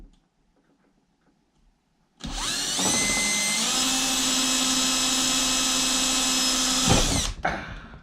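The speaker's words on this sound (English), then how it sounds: "Time to drill some holes." A power drill boring holes in RC trail truck parts whines up after a quiet start, holding a loud, steady high-pitched buzz for about five seconds before winding down with a few rattles.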